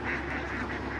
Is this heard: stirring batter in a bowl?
no